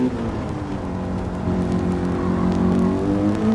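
A race car engine in a racing video game at Laguna Seca, in an American Clubman Cup 700 race, drones loudly and steadily, then climbs in pitch as the throttle opens about halfway through.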